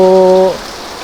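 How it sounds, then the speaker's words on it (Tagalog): Dense, steady typhoon rain hisses continuously in the Philippines, a loud broadband wash; a short tonal hum fades out in the first half-second. "bumalik na naman ang ulan, malakas"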